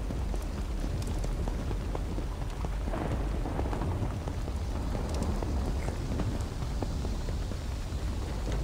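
Rain falling in the blocky world of Minecraft Dungeons, a steady, dense hiss of drops with soft low rumbling underneath, continuous and evenly loud throughout with no voices.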